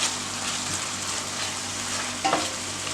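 Chopped tomatoes sautéing in masala for chicken keema upma, a steady moderate sizzle with a brief stirring clatter near the end, close and without talk.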